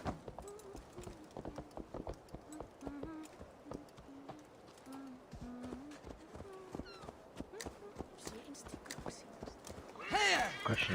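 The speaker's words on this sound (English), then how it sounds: "Assassin horse. Here he come." A horse gallops in the video game Assassin's Creed Valhalla, its hoofbeats a quick, rhythmic clatter. Someone talks over it, and louder noise swells near the end.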